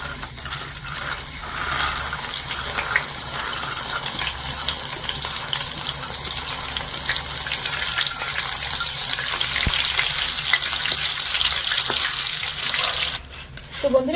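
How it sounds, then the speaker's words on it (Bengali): Soaked lentils deep-fry in hot oil inside a strainer, producing a continuous bubbling sizzle that swells and persists, ending with a brief clatter. "তো এবার আমি এগুলোই ছাকনার মধ্যে দিয়ে ভেজে নেবো"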